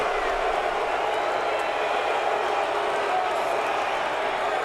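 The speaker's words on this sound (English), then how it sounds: "The boos cascading down from the Pocono race fans today" Large crowd of race fans at Pocono Raceway booing after a NASCAR finish, a steady, dense roar of voices held loud throughout without breaks.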